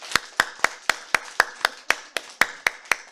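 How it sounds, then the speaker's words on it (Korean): A church congregation claps in a steady, evenly spaced rhythm during a Sunday worship service, about a dozen crisp, moderately loud claps over a few seconds with no talking. "박수합니다."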